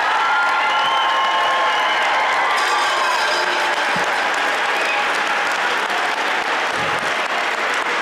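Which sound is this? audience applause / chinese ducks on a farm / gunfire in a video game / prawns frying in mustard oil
audience applause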